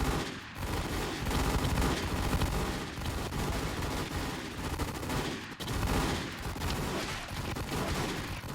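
Dense, nearly continuous gunfire from a shooting video game, with loud rapid bursts and overlapping shots, barely a pause, with no talk.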